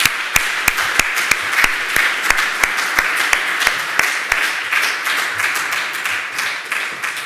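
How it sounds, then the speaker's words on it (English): Audience at a digital health closing event breaking into applause, a continuous dense clatter of clapping with sharp, regular individual claps standing out near the front, fading slightly toward the end. "applause to Sitra"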